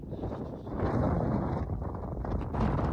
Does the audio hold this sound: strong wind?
yes